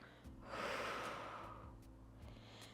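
A long, airy exhalation during a slow seated rolling-down exercise in a coordination and balance class, swelling then fading over a couple of seconds, fairly close and alone over a low steady background hum.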